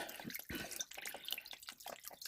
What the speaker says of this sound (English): And so I'm going to put some Worcestershire sauce